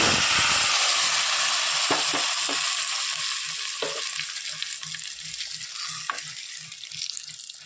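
A tempering of dried chillies and curry leaves is poured into Kerala-style kadumanga mango curry. It starts with a loud burst of sizzling, then settles into a softer bubbling hiss broken by scattered stirring clinks and taps.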